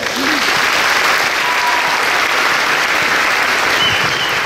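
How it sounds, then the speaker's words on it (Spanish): A church congregation breaks into steady, loud applause, a continuous dense patter of many hands clapping at once that fills the space for several seconds without letup. "Un aplauso para ustedes."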